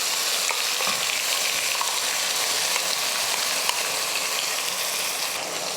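Coriander paste and onion sauté in a pan, a steady loud sizzle with stirring scrapes close by, continuous and without talk.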